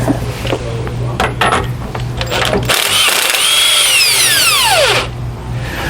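Impact wrench removing U-bolt nuts with a 1 1/8 socket while installing a Roadmaster Reflex steering stabilizer on a 2020 Ford F-53 chassis, a loud close hammering rattle that cuts off and then spins down with a falling whine.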